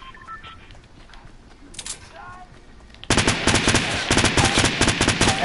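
Rapid bursts of automatic gunfire in the Fortnite video game: quiet game sounds at first, then a loud, sustained rattling volley of shots that runs to the end.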